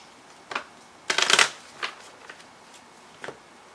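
A deck of Angel and Ancestor oracle cards is shuffled by hand, a few soft riffling bursts with one longer flurry in the middle, close and fairly quiet, no talking.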